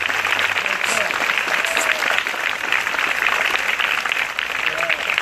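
A school assembly at a primary school flag-raising in Yopougon applauds a visiting deputy, a continuous, even roar of many small hands clapping, with a few faint voices showing through.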